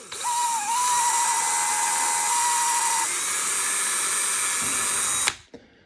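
Small high-speed drill with a very fine bit clearing epoxy out of a graphite golf shaft adapter, a steady high whine held for about five seconds, close and loud, then stopping abruptly.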